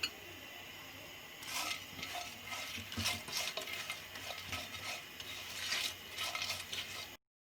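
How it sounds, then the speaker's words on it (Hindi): Spices fry gently in hot oil in a pan, with a soft continuous sizzle, scraping and stirring clatter, and a few metallic clinks close by. "मसाले को हल्का सा फ्राई करेंगे"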